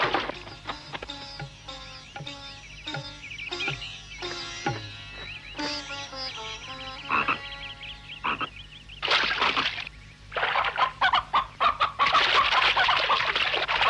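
Chickens clucking in quick, repeated bursts close by, with a chaotic flurry of louder squawks and cackles toward the end; no talking.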